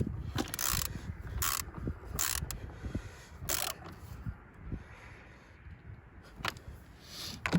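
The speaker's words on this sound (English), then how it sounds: "Change over to my 10mm socket, and with that secure, go ahead and crank that one down." A ratchet with a 10mm socket tightens a car battery terminal, giving a series of close, crisp ratcheting clicks in quick bursts, with brief pauses between strokes.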